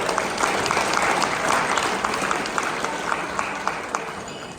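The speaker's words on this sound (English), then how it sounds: "Please, one more round of applause for our 2026 partners." Audience applause for the 2026 partners at a real estate brokers' annual installation gathering, a broad steady wash of many hands clapping that slowly fades toward the end.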